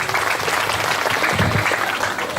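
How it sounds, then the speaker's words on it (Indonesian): Audience applause at an Islamic boarding school alumni graduation ceremony, dense continuous clapping from a crowd filling the whole stretch, loud and steady without letup. "Tepuk tangan untuk Daris."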